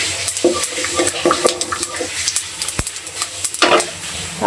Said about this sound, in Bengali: তেলে দিয়ে আমি জিরা দিয়ে নিলাম, জিরা ফোড়ন দিয়ে নিলাম।